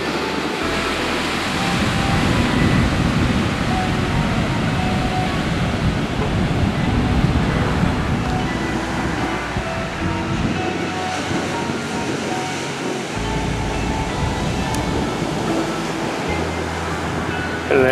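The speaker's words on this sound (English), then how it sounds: "let's just look along the beach and see the waves crashing in from the" Pacific Ocean waves break on a Northern California beach near the mouth of a bay, giving a continuous low roar of surf that rises and falls slightly, with no voices.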